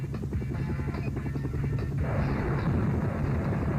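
Helicopter gunship firing missiles and autocannon in the Sega Saturn game Black Fire, a dense low rumble of rotor noise with rapid, stuttering bursts of fire, loud and continuous throughout.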